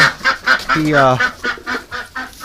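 Ducks in a flock quack and honk in rapid, overlapping calls close by, with one longer nasal call standing out in the middle.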